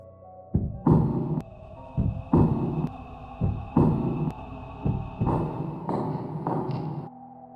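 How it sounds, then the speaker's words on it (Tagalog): Repeated low thumping pulses in a steady rhythm, about a dozen beats, with a faint continuous hum underneath. "Sabay sa tibok ng puso namin ang tunog sa ilalim."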